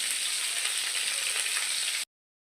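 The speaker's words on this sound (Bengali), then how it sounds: "পটলগুলোর এক পাশ ভাজা হয়ে গেলে উল্টে দেবো আর এক পাশ ভাজা করার জন্য।" Pieces of pointed gourd (potol) fry in oil, a steady close hiss of sizzling for about two seconds before cutting off abruptly, no voices.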